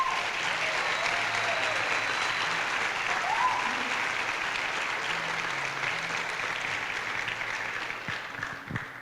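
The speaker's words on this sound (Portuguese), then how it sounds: "pode aplaudir o Senhor" Sustained applause from a church congregation during a worship service, a dense steady wash of clapping that holds for the whole stretch and eases slightly near the end.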